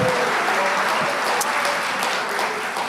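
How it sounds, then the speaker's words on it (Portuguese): A church congregation applauding during a service, a continuous wash of many hands clapping together, steady and fairly loud with no break. "Então você pode dar a sua melhor salva de palmas para Jesus"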